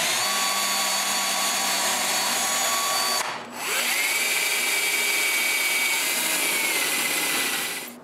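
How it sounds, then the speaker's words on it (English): Power drill boring a pilot hole in a wooden tripod head, a loud high-pitched whine running steadily, briefly cutting out, then spinning back up and holding until it stops. "Now I can drill a pilot hole, but closer to the base than my mark"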